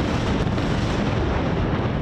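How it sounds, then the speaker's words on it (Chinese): A missile intercepted by an air defence system explodes in a loud, dense rumbling burst of blast noise lasting a couple of seconds, heard alone without any voices. "有导弹被防空系统拦截，传出爆炸声"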